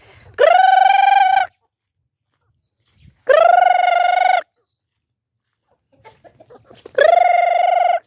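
Chickens at feeding time give three long drawn-out crowing calls, loud and close, spaced a few seconds apart, with soft clucking and faint shuffling in the pauses.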